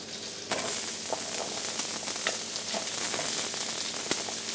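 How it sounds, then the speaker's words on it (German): Kohlrabi sticks sizzle and crackle in a hot frying pan, a dense, steady frying hiss starting abruptly as they go in, with occasional pops and stirring clinks. "als erstes nehmen wir unsere Kohlrabi-Stifte in die nun heiße Pfanne."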